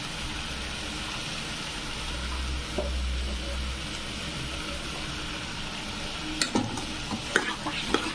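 Potatoes fry in a pan with a soft continuous sizzle while a utensil stirs them, with scattered sharp scrapes and clinks growing busier toward the end.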